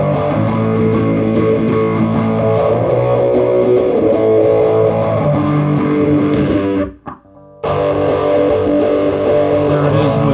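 Electric guitar played through a Joyo California Sound pedal on its Fender 65 reverb setting, loud and sustained with dense chords, a brief near-silent break near the end before the playing resumes.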